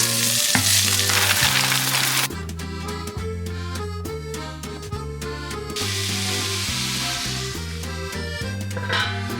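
Pasta risotto cooks in a pan with a steady sizzle and bubbling, heard under continuous background music throughout.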